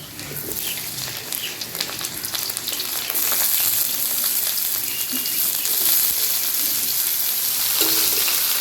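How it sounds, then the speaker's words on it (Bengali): Cauliflower pieces fry in hot mustard oil after onions, a loud continuous sizzle that intensifies a few seconds in and holds steady to the end, with faint stirring and no voices. "পেঁয়াজটা ভাজা হয়ে গেছে, এখন দিয়ে দিব কপিটা।"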